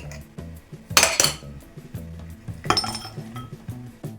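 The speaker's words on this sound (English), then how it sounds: "Put the oatmeal mix in a bowl." Oatmeal mix tipped into a bowl in a home kitchen, heard as two short clattering clinks of dish and utensil against a soft background hum.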